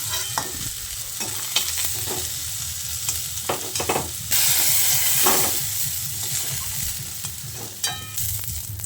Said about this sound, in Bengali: এবার আমি এই ভাজা আলু আর পটলটাকে এইভাবে একটু তেলটা ছেঁকে তুলে নিচ্ছি